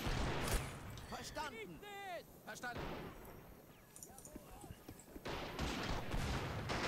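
Battle noise in the strategy game Men of War: Assault Squad 2, with continuous crackling gunfire and rumbling blasts, and someone talking over it.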